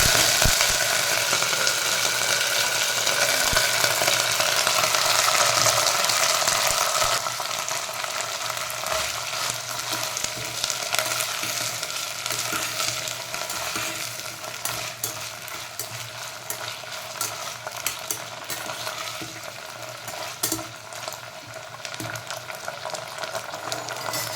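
Cluster beans (guvar) sizzling and frying in hot oil in a pan, a dense, steady crackling hiss that runs throughout, louder at first and then settling, with occasional stirring scrapes and no voices.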